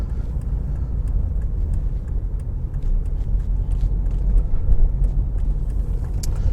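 A car drives a country route from Ashford to Faversham on an autumn day, its steady engine hum and road rumble loud and continuous throughout with no talking.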